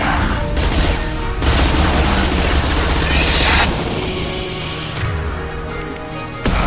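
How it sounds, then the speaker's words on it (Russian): Gunfire in the video game Mass Effect 2 crackles in rapid bursts with booming impacts, loud and dense throughout, with some speech mixed in. "Выстрел."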